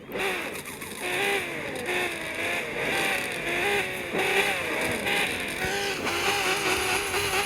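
Revving engines race in the Car Parking video game, a continuous loud drone with rising and falling pitch sweeps as the cars accelerate and shift, heard alone without talk.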